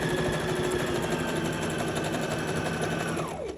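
A sewing machine runs zigzag stitches along a fabric edge in a steady, close, continuous whir that winds down at the end.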